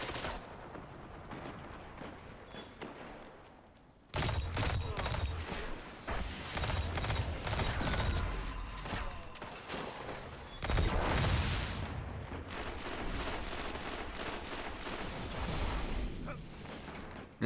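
Outbreak Prime, an exotic pulse-style rifle in a Destiny-type shooter, firing repeated bursts at a fairly slow, rhythmic rate, loud and close, with gaps between volleys and quieter game ambience at the start.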